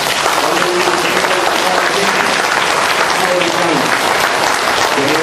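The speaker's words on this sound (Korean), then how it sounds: "여러분들 큰 박수로" An audience at a Buddhist memorial gathering in Gangneung gives loud, continuous applause after a lecture, with a hum of voices threaded through the clapping.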